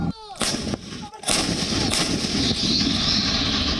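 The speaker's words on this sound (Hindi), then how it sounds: "Self propelled artillery K9 Vajra." A K9 Vajra self-propelled artillery gun fires with loud, booming blasts, one near the start and heavier reports around the middle, followed by a sustained roaring rumble and hiss that fills the rest of the clip.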